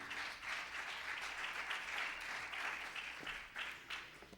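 A congregation applauds in praise during a Spanish-language church sermon, steady sustained clapping from many hands filling the room, fairly close and even.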